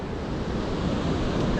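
Steady broadband rush of ocean surf on a beach, constant wash of waves with some wind noise on the microphone and no voices.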